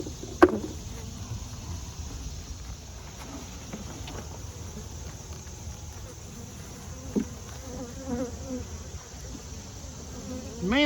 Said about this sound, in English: the bees hadn't given up on this super as easy as I'd hoped